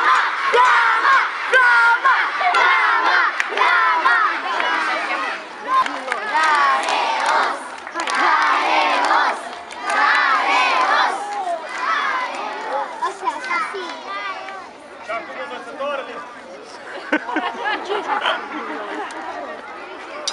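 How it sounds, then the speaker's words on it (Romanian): A large crowd of schoolchildren at a middle school in Alba Iulia shouts a rhythmic chant in unison during a gladiator reenactment visit, loud and near, swelling in repeated bursts with scattered individual cries and cheers. "Vreau să aud că strigați pentru flama toți copiii odată"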